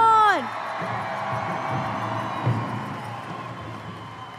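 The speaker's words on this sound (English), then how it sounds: "Give them a big round of applause really loud" Loud crowd applause and cheering for Miss Indian World pageant contestants at the Gathering of Nations Pow Wow, a sustained dense roar with whoops, following a brief rising whistle-like call at the start.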